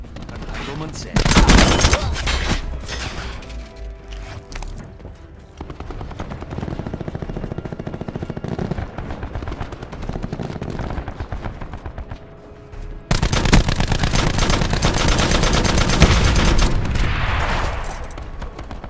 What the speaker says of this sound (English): So you notice the weapons sound really heavy and powerful and explosive.